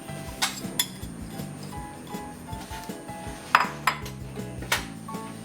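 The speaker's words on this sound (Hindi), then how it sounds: "सब चीज़ें डाल के हम इसको अच्छे से मिक्स कर लेंगे।" A spoon scrapes and clinks against a metal pan while chicken filling with chopped onion and chillies is mixed, giving a run of sharp knocks and taps at an uneven rhythm, close and fairly loud with no talk.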